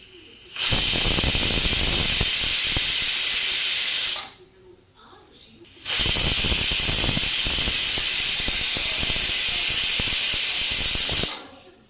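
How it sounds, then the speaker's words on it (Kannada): Pressure cooker venting steam while cooking paneer pulao, two long loud hissing blasts separated by a short quiet gap, close and harsh. "ಈಗ ಟೂ ವಿಷಲ್ ಬಂದಮೇಲೆ ಗ್ಯಾಸ್ ಆಫ್ ಮಾಡಿ ಸಾಕು"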